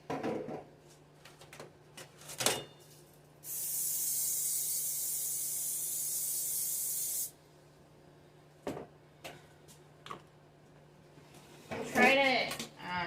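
Cooking spray hisses onto a baking pan for zucchini bread in one steady, loud burst of about four seconds, with brief kitchen clatter before and after and a person talking at the end.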